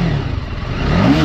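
A TVS Apache RR 310 motorcycle engine hums and revs briefly as the throttle is opened, a close, steady mechanical drone that rises slightly toward the end.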